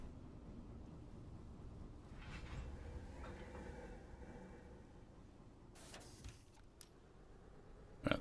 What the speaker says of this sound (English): Going through the Y. I heard the squeaky wheels.